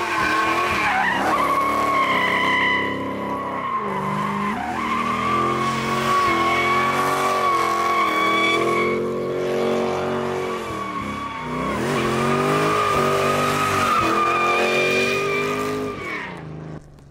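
An LS V8-swapped Mazda Miata drifts in third gear, its engine roaring steadily as the tires squeal and skid continuously for about seventeen seconds, loud and close.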